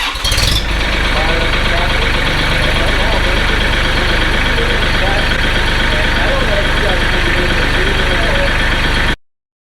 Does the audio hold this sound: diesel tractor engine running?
yes